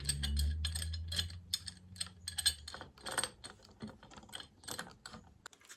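Clamps are tightened down on a guitar head veneer during a guitar build, producing a close series of rapid ratcheting clicks and small mechanical ticks in uneven bursts.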